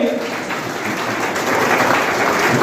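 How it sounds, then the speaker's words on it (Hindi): Steady applause from an audience at a community celebration, a dense wash of clapping that holds at an even loudness and swells slightly toward the end, with a few faint voices underneath. "तो जोरदार तालियां हमारे इस जज्बात के लिए।"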